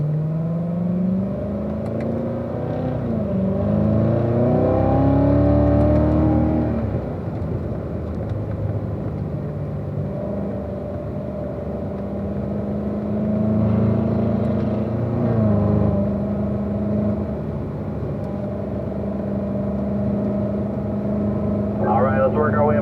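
A Corvette on a race track builds speed through the gears, its engine rising and falling in pitch with each shift while an instructor's voice talks over it.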